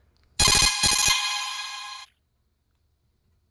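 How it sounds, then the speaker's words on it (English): A phone ringtone chimes loudly and alone for about two seconds, its opening notes pulsing twice before a sustained electronic tone, with silence afterward. "forgive me if you keep hearing my ringtone"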